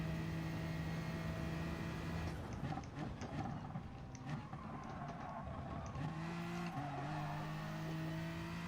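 A Peugeot race car in GT Sport drives hard, its engine note holding steady, then dropping and climbing through shifts, with brief tire squeal and skidding textures in between, fairly quiet overall.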